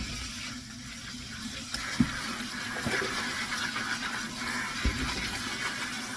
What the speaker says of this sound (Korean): 이거 이렇게 씻으면서 이거를 전부 꼭지를 따요.